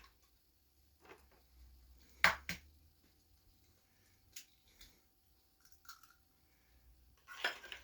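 Eggs cracked one after another for a plain quiche, the thin shells giving sharp, sparse taps and clicks against a bowl in a quiet kitchen, with a couple of louder knocks.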